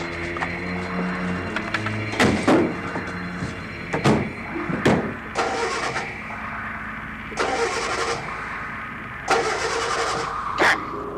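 A car engine cranks and turns over in several short, sharp bursts, then revs and settles between attempts.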